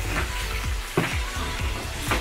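Low, steady sizzling of chicken frying in a pan, with a few soft clinks and scrapes of a utensil; no voices.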